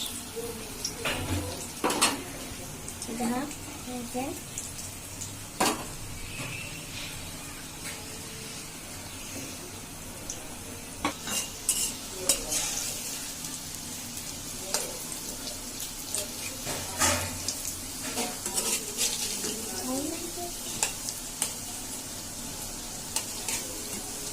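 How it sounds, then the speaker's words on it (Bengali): Quiet sizzling of kofta frying in a pan, with scattered clicks and scrapes of handling and turning throughout; no talking. "ভাজা চলতেছে। একটু ভাজা হয়ে গেছে, উল্টে দিতেছি আর একটু ভাজবো"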